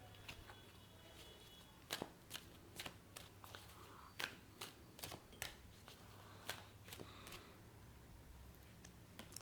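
Tarot cards are shuffled and drawn during a Navratri-themed pick-a-pile reading, giving soft, faint papery flicks and taps at an irregular pace with no talking over them.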